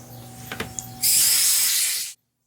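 Compressed air blasting debris off a Briggs & Stratton 17 hp Nikki carburetor, a loud, close, steady hiss that starts abruptly, lasts about a second and cuts off sharply, after a few small clicks.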